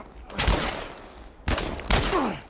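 Gunfire in The Last of Us Part I: two clusters of sharp, loud shots about a second apart, each with a booming tail, while a voice is heard nearby.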